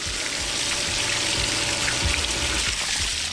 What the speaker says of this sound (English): put it on rinse, and rinse blows all the crap out of the line, so you're not blowing the algae straight back in